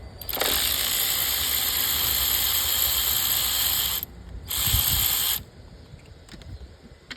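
A ratchet spins out 10 mm bolts on a Kia Sorento valve cover, a loud, rapid continuous clicking run for several seconds, a brief pause, then a second short burst before quiet handling sounds.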